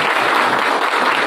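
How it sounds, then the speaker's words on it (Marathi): Loud, dense applause from a crowd at a political party-joining event in Karjat, continuous clapping with no gaps throughout. "एकदा जोरदार टाळ्या होऊन जाऊ द्या"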